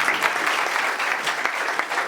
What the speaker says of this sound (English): I'd like everyone to give him a round of applause.